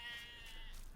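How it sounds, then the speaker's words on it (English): A sheep bleats once in the video game Lord of the Rings Online, a short, faint, wavering cry over quiet background ambience. "The sheep just add to the stealth of Andeng, clearly."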